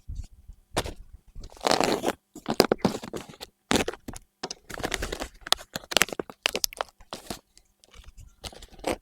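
A Polish SR-6 military ration pack with bigos and sausage is opened with loud crinkling, tearing and rustling of packaging in irregular close bursts, with brief speech mixed in.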